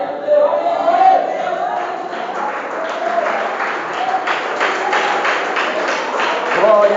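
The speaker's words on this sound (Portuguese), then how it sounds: "Fique à vontade em aplaudir ao Rei dos Reis," A church congregation applauding, with rhythmic clapping that builds and continues steadily, heard through a narrow, somewhat tinny recording while a voice speaks over the start and end.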